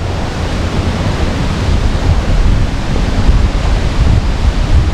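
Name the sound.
strong wind by a lake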